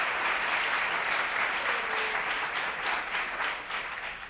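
A studio audience claps in a full, sustained round of applause that holds steady and tapers off toward the end, with no talk over it.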